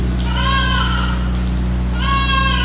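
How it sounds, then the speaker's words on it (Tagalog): A goat bleats in two loud, wavering cries close by, the first long call followed after a pause by a second, over a steady low hum, during a typhoon in the Philippines. "Yung kambing ko, iyak ng iyak, di siya makapunta dun sa kanyang kainan eh."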